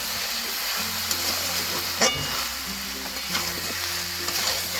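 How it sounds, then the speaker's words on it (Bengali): Chicken stew sizzles and fries in a pan while being stirred, a constant hiss with occasional scraping clinks of the spoon, close up and alone without talk. "আবার একটু নাড়িয়ে চাড়িয়ে নিচ্ছি।"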